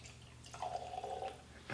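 Heaven Hill Bottled-in-Bond bourbon pours into a glass in a short, quiet, close trickle with no talking.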